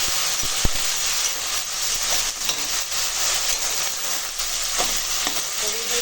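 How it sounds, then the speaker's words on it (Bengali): Snake gourd (chichinga) seasoned with turmeric, chilli powder and salt frying and being stirred in a pan, giving a loud, steady sizzle with scraping stir strokes throughout and no talking. "এখন চিচিংয়ের সবজিটা রান্না করবো"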